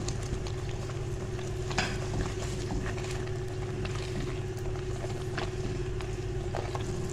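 Fried masala-coated eggs stirred into a pan of roasted masala for shahi anda korma, giving a steady low sizzle with scraping stir strokes throughout and no talk.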